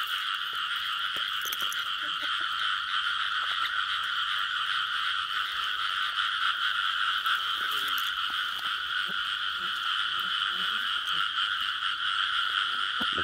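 Frogs croak in a steady, dense chorus at a night frog-hunting spot in rural Vietnam, the calls continuous and fairly loud without pause for the whole stretch, with no one speaking over them.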